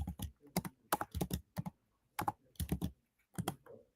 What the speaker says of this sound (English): So I'll have to keep typing them out.